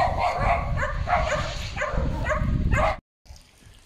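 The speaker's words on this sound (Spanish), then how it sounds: "hay un perro por allá suelto y es bastante amenazante" A loose, threatening dog on a Camino de Santiago trail barks repeatedly in a steady series of loud, close yelps, then breaks off into near silence before faint outdoor sounds resume.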